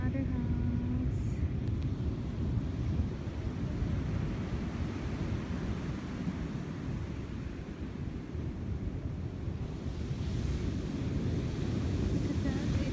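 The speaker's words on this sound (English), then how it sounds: "It's windy, so that's why the waves are getting stronger." Ocean waves and wind at Southampton Beach, New York, a constant low rumbling roar of surf and wind buffeting the microphone, steady and loud for the whole stretch with a brief high tone near the start.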